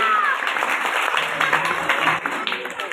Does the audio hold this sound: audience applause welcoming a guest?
yes